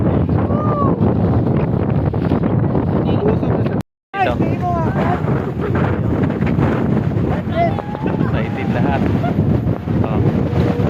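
Heavy wind roars and buffets the microphone almost continuously on Mararison Island, with a brief cutout partway through and excited voices speaking under the gusts.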